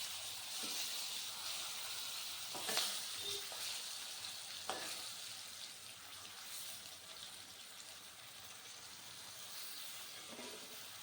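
Quiet, steady sizzling of pointed gourd pieces frying in a pan, with a few soft scraping stirs and light clinks along the way.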